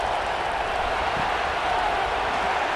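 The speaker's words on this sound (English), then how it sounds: "Listen to this crowd just shaking the girders of this place trying to help their defense." A stadium crowd roars during a college football video game, Louisville against Clemson, a loud, steady wash of cheering noise held evenly throughout with no distinct voices standing out.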